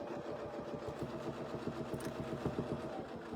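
A sewing machine stitches crosshatching lines across a quilt with a quiet, rapid, even mechanical pulse that runs steadily throughout.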